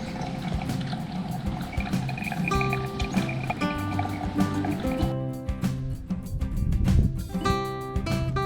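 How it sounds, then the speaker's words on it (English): Hot water is poured onto coffee grounds and runs down into a thermos flask, producing a close, gurgling liquid stream with rising fill tones and small clinks, without talk. "pour the hot water onto the grounds so that the fresh coffee runs straight into my thermos flask"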